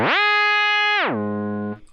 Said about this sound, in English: pitch wham, which is obviously just a pedal pitch or whammy effect,